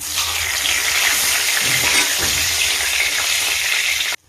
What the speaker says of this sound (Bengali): এবার সর্ষের তেলটা হয়ে গেছে, একটু আস্ত জিরে ফোড়ন দিলাম, 2টো তেজপাতা ফোড়ন দিলাম